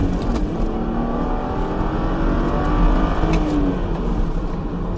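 A car with a remapped naturally aspirated engine accelerates out of a bend, a steady, loud engine drone rising gently in pitch with no talk over it.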